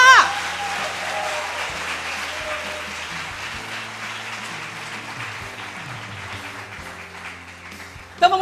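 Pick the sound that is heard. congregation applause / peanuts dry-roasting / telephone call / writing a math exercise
congregation applause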